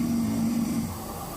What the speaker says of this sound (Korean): 이제 코를 골기 시작했어요.